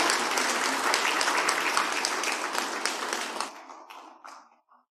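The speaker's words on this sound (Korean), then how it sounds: "다시 한번 크게 박수해 주시기를 바랍니다." Audience applause at a church ordination ceremony marking the congregation's 74th anniversary, a dense sustained clapping from a crowd that thins out and fades to a few scattered claps near the end.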